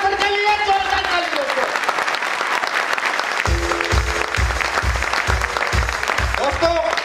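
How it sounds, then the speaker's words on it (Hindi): An audience gives a strong round of clapping for Mr. Mahipal, a steady dense patter that continues throughout, with a voice over the opening and heavy rhythmic bass thumps joining midway. "मिस्टर महिपाल सर के लिए जोरदार ताली"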